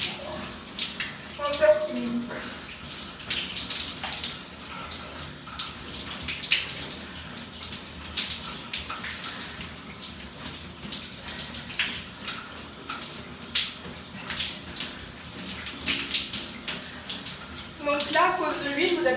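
Water runs from a tap throughout while a homemade face mask is rinsed off, a steady splashing hiss under occasional talking.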